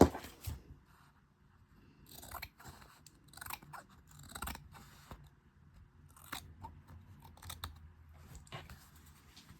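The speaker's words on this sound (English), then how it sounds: "you don't have to worry about it being perfectly straight or anything if you just wait to cut it" Scissors snip through patterned 6x6 craft paper for a junk journal folio, making a series of crisp, close cuts in irregular bursts separated by brief quiet pauses, with no talking.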